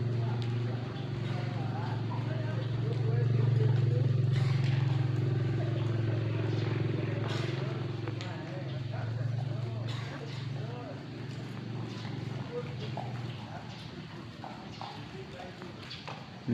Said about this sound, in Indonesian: Dan disusul ada beberapa kuda kembali.